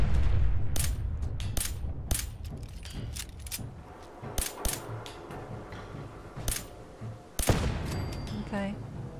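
An automated turret firing in Fallout 4, sharp cracking shots in uneven bursts, some close and loud, others fainter, over a rumbling game background while someone talks in between.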